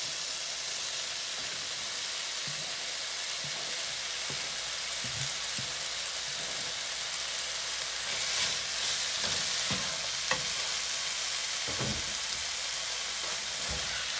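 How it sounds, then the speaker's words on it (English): Canned artichoke hearts sauté in a pan for spinach artichoke dip, giving a steady broadband sizzle and hiss with occasional soft stirring clicks and scrapes, close and continuous with no talking. "we're just gonna saute that for a little bit just to get the bite out of them since they've been canned"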